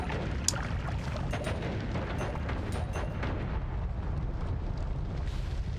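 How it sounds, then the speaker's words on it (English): Dense, continuous rumbling projectile explosions in the video game Noita, a steady roaring wash of blasts with faint crackling pops layered on top, loud and unbroken throughout. "projectile explosion."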